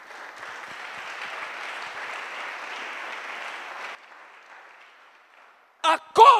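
Church congregation applauding together at a worship gathering, a steady even clapping that runs for about four seconds before fading into quieter room sound, then brief louder bursts near the end.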